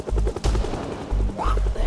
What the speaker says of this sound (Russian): И выстрелы еще какие-то